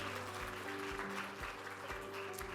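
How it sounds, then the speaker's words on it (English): Audience applause fills a formal school-education talk event, steady dense clapping with a dull crowd wash, sustained evenly throughout at moderate-to-faint level. "Let's give another round of applause to Mark and Ken"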